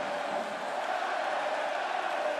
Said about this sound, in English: Crowd getting in behind their team all of a sudden now